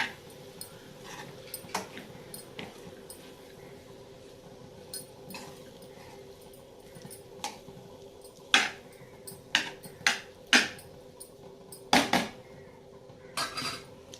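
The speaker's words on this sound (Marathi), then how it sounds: "याच्यामध्ये आपण मिक्स करून परतून घेऊया" Food being mixed and sautéed in a pan, with sporadic metallic clinks and scrapes of a utensil against the pan over a low steady hum, the knocks growing more frequent and louder toward the end.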